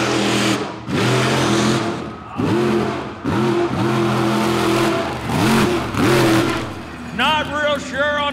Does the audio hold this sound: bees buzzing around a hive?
no